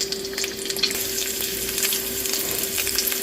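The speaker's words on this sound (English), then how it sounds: "The bacon is frying" Bacon fries in a pan with a steady crackling sizzle, loud and close, a constant dense hiss with small popping bursts and no talk.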